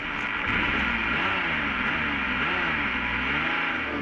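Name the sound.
Ferrari F50 engine while driving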